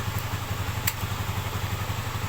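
A Rusi TC 125 motorcycle engine keeps idling after being switched off because of a wiring fault, a steady low putter running evenly and close, with one brief metallic click partway through.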